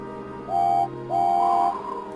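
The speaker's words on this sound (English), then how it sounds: "Then James heard a whistle." Two clear, tonal whistle blasts, a short one followed by a longer one, sounding over a low steady hum, like a train whistle.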